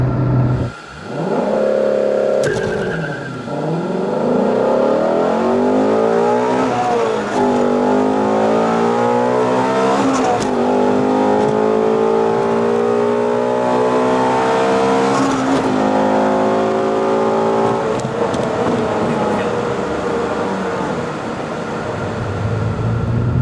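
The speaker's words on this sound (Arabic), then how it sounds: "خلينا نفرجيكم تجربة التسارع هلا من 0 ل 100" A Shelby GT350 Mustang engine revs hard and accelerates from 0 to 100, its roar climbing through several gear changes with brief dips between shifts, loud and close throughout.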